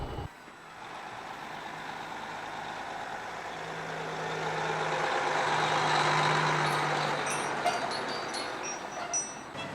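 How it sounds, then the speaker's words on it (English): Loaded log truck passing on a forest road: a broad engine roar that swells to a peak midway and then eases, with a few high beeps and hissing air near the end. "Christofferson stops to allow a loaded log truck to pass"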